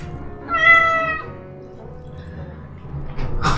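A cat meows once in The Whispered World video game, a clear, rising and falling harmonic cry over quiet background, followed by soft rustling.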